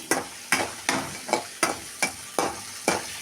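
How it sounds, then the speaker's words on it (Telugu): Grated raw mango stirred in a pan gives seven evenly spaced scraping strokes, each a sharp sizzling swish that fades quickly, close and clear with no talk. "ఇప్పుడు మామిడికాయ తురుము వేసుకొని కలుపుకోవాలి."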